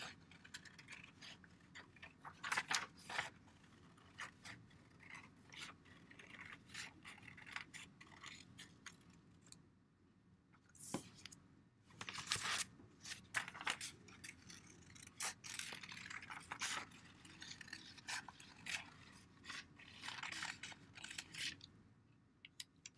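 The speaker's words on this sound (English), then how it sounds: "I start opening my scissor and I cut away from me, and I turn the page" Scissors snipping through paper while a page is turned, close and quiet, with a busy run of short crisp cuts and rustles broken by a brief pause and then a few louder snips.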